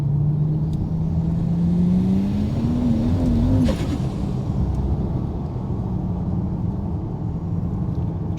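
A tuned car on tune 2, about 25 pounds of boost, revs hard with the engine note climbing steadily, then cuts sharply as traction control intervenes, leaving a rough lower rumble, close and loud with no talk.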